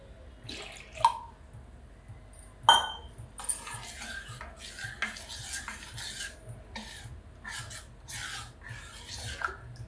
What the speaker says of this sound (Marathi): फेटून घेते मग जरा जराशी पाणी घालते